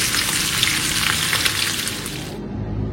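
Hilsa fish frying in hot oil, a loud, continuous crackling sizzle up close that cuts off abruptly near the end, leaving a low hum.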